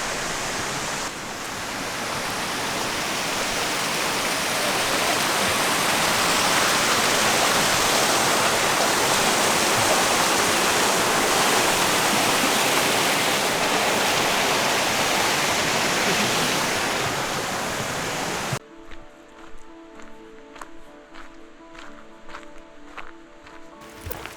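Loud, continuous rushing of a tall waterfall fills most of the stretch, steady and broadband, before cutting abruptly to quieter surroundings with soft footsteps and faint rustling near the end.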